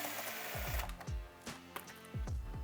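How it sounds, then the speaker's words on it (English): A bolt is loosened on a 2024 Beta 300 RR Race Edition motorcycle, giving a close run of rapid mechanical ratcheting and whirring bursts in quick repeated pulses, with no talking. "I'm just going to take this bolt off."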